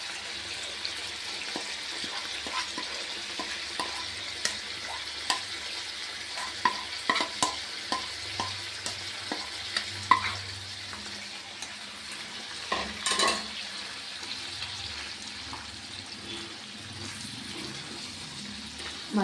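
Ground masala fries in oil with mutton pieces and curry leaves for nati-style mutton chops, a soft steady sizzle with a run of stirring clacks in the middle, quiet and without speech.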